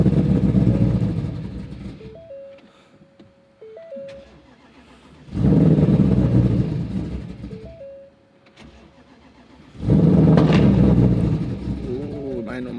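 A Roush Mustang cold-starting with several attempts: loud bursts of engine roar and revving separated by quieter stretches where a steady tone and some voice come through.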